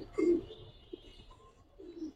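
Home-bred pair of pigeons giving soft, low coos, one fuller coo early and a fainter one near the end, quiet and close with light background noise.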